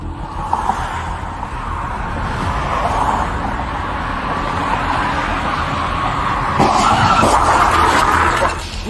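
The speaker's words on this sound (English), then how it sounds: "a dark sedan slams into the parked patrol cruiser at high speed" A dark sedan strikes a parked police patrol cruiser at high speed on a roadside stop, heard as a long tire skid and roaring car noise building to a louder impact burst near the end, with no talk.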